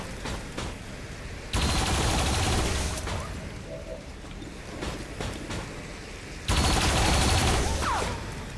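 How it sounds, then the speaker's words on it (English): A turret fires in XCOM 2 in two long, loud bursts of rapid automatic gunfire separated by a quieter gap, with scattered game effects in between. "let's use our turret"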